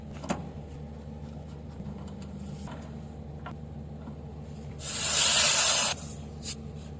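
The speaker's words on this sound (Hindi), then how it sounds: "जैसे मैंने गेज लगाई है तो इसके अंदर से गैस थोड़ी सी बाहर भी निकली है" Refrigerant gas hissing briefly out of an air conditioner service port as a pressure gauge is attached, a loud broadband burst lasting about a second over a low steady hum, followed by a short second puff.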